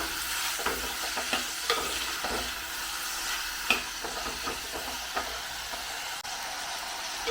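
Bilimbi lightly sautéed in a pan, a continuous moderate sizzle with scattered spatula scrapes and occasional clicks, close and steady.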